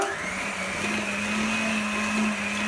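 Electric kitchen mixer beating sugar and shortening for cookies, a steady loud whirring drone with a constant motor hum throughout, no voices.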